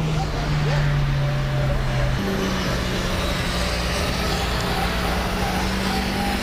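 A racing car on a trackside circuit roars past, a sustained loud engine drone that shifts pitch partway through, with a commentator talking over it.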